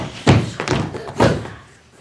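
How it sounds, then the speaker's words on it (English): Toy spaceship landing hard during a children's theater story: two or three dull, close thuds in quick succession, the last fading out, with no talk over them. "And all of a sudden they landed hard."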